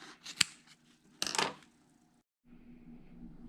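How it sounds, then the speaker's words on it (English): Scissors cut apart pieces of quilt fabric along a line, giving a few crisp snips and a longer cutting rustle close up, then a quiet pause and faint handling noise. "we can cut those apart right on that line"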